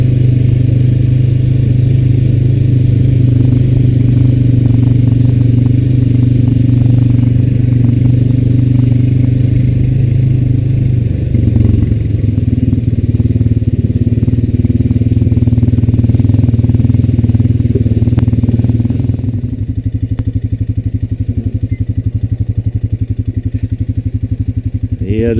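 Honda Rancher 420 ATV engine droning steadily at low revs near the edge of a pond in the woods, a continuous close rumble that drops to a quieter idle toward the end.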